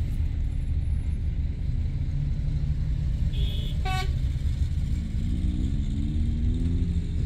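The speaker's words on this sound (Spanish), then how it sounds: "Más y más camiones." Road traffic with long lines of trucks queuing for diesel in El Alto, Bolivia, near a railway station: a constant low engine rumble, with one short horn toot in the middle and another vehicle sound rising toward the end.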